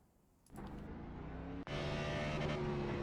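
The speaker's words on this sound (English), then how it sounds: "These cars have a rev limiter or a chip, a rev chip." Race car engine in the iRacing sim, heard from onboard, starting quiet then jumping to a loud, steady high-rpm drone, with a brief cut around the middle as the rev limiter chip bites before it roars on.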